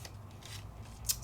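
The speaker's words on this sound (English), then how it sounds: "so if I cut it out of plain paper," Scissors snipping plain paper cut from a Sizzix die, a few soft close crisp cuts under low background hum, with one brighter sharp snip near the end.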